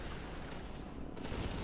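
Heavy sustained gunfire in The Division, a dense loud barrage of shots filling the short moment without pause.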